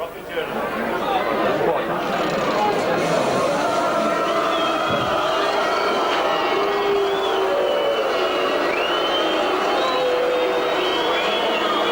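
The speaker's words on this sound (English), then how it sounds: "Boos hisses everything from the crowd" A large rugby league crowd at a Batley versus Doncaster match boos and hisses in a steady, sustained roar of disapproval, with a commentator talking over it.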